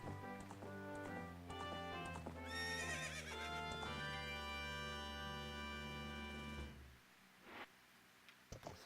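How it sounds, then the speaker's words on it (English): A horse in Zelda: Ocarina of Time gives a loud, drawn-out whinny over rhythmic clip-clopping hooves and in-game music, and the sound drops away near the end. "And now we have a horse."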